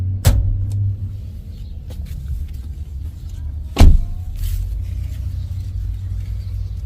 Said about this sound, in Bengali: আমি এখন ইঞ্জিন বর্ডটা খুলব।